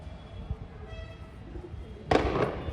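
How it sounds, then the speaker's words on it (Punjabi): A single firecracker bursts with a sharp crack near the end, preceded by quiet outdoor background and a faint tonal hum. "ਲੋ ਕੇ ਚੱਲਿਆ ਪਟਾਕਾ"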